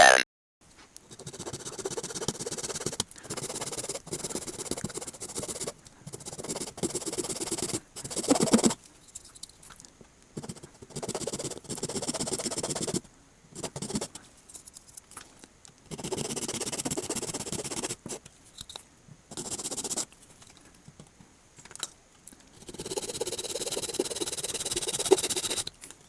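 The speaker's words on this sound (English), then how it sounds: "very carefully cut the head off the neck post so that we can see what is inside" A razor cutting the head off the neck post of a vintage Masters of the Universe Mekaneck action figure, heard as close, faint scraping and scratching in uneven bursts with short quiet pauses, no talking.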